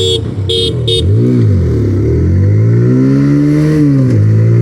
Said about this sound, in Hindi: गाड़ी मैंने ऑन कर लिया, फर्स्ट गियर पे मैंने डाल दिया है